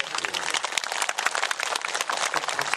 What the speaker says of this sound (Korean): 박수까지 받으시네요.